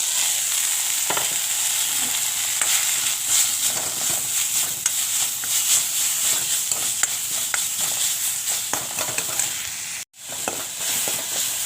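Chopped drumstick leaves fry in a little oil in a wok, a steady crackling sizzle running throughout with occasional scraping stirs, close and alone, briefly dropping out near the end before resuming.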